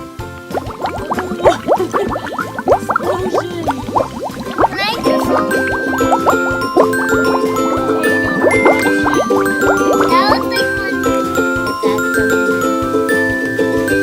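Vinegar poured into a yogurt bag holding an egg for a kids' Easter egg science experiment, a continuous close liquid stream with gurgling and splashing that deepens as the bag fills.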